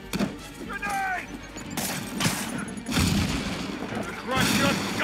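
A grenade blast in the Marvel's Spider-Man video game, a loud booming explosion among repeated gunfire-like bangs and rumbling thuds, with shouted voices over the chaotic combat din.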